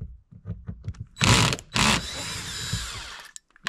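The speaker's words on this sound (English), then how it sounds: "or you can use a drill like me." A power drill fitted with a Torx T20 bit backs screws out of a Dodge RAM 1500 truck's sun visor: two short, loud whirring bursts and a longer run, with small clicks and handling noises between them.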